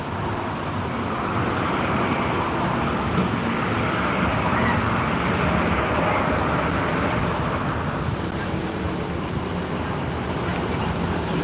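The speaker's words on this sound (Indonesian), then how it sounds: "Terpantau lancar lalu lintas timur" Steady road traffic rolls past a bus station ticket office in Palembang, a continuous broadband rumble of passing vehicles with no pauses and no distinct single passes standing out.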